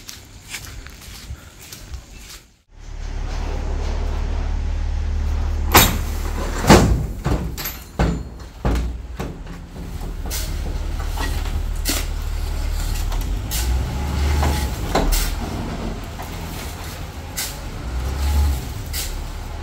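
Sand truck unloading at night on a muddy road: a steady low engine rumble runs throughout, broken by repeated metallic bangs, thumps and clanks, with a brief drop in sound near the start.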